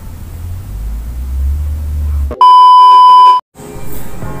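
A bright notification bell tone rings out once, a steady electronic chime lasting about a second that cuts sharply through a low background hum before the hum returns.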